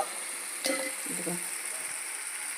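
Lima bean curry with tomato masala frying in oil, a soft steady sizzle at low volume with a brief clank of a stirring spoon against the pan early on.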